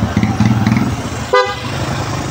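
A short, bright horn toot from a tricycle cuts through the steady rumble of a nearby idling engine, a single quick honk amid traffic noise.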